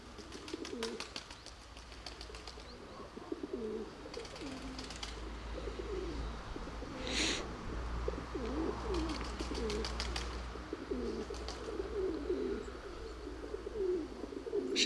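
Pigeons in a loft coo repeatedly in low, rolling murmurs, with occasional wing flutters and brief higher chirps over a steady background hum.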